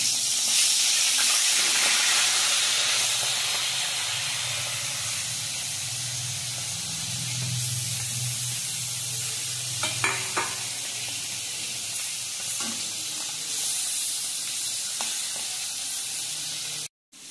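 Pieces of fish frying in hot mustard oil, a loud, close, continuous sizzle and hiss with occasional spits and pops, fading abruptly at the end, no talk.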